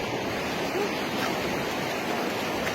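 A strong river current rushes steadily and continuously nearby, a dense, even roar of flowing water with some wind buffeting the microphone.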